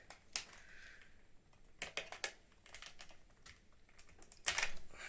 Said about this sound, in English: the keycaps are hellish hard to pull off on these